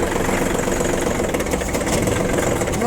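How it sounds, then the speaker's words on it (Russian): A Kubota L205 mini tractor engine runs at a steady idle: a continuous, close mechanical rumble with an even, unbroken chug and no voices. "Я думаю, видно, что прекрасно работает трактор."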